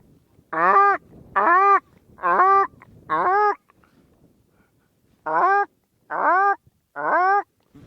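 A person imitates a South African shelduck's honk with seven nasal, hooting calls in two rhythmic groups, loud and close.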